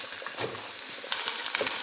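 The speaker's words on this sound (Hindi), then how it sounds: "और अब मैं इसमें प्याज डालती हूँ।" Chopped onions hit hot oil in a pan for keema spaghetti, giving a close, steady hiss and crackle with a sharper burst of sizzling partway through.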